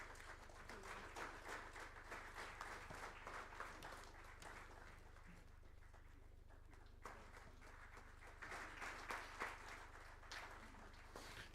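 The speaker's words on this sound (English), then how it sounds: "Ladies and gentlemen, please give a big round of applause for the host of the event, Ms. Shristi Singh, Assistant Editor, Indian" An audience at a seminar on critical minerals extraction applauds the event host, a faint, steady patter of clapping that goes on for about twelve seconds over a low hum, with no speech.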